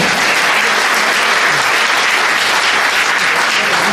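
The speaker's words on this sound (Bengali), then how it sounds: "আমাদের সুন্দর ম্যানেজমেন্টের জন্য একবার ফাটিয়ে হাততালি চেয়ে নেব সবার কাছে" An indoor audience at a company gathering claps loudly and steadily, a dense sustained round of applause with no voices over it.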